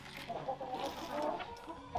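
Sulmtaler hens, kept in a group with a few other small chickens, cluck steadily and overlap one another at close range, with one brief louder call near the end.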